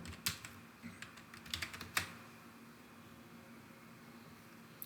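A quick flurry of keystrokes on a computer keyboard, typing a search for VS Code, clicks faintly and closely for about two seconds before fading into quiet room hiss.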